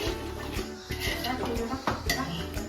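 Roasted coconut being stirred and mixed in a pan for halim laddoos, a steady scraping and clinking of a spoon against the metal with some background kitchen noise and faint talk.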